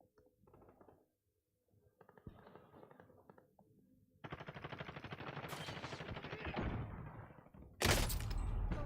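Video game gunfire crackles in bursts, with scattered shots early, then sustained rapid automatic fire building in the middle and a loud, sharp volley near the end.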